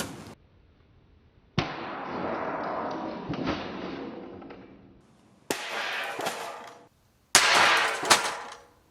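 A Dell desktop computer thrown off a roof smashes into the ground in three loud, sharp crashes with clattering debris, separated by brief pauses.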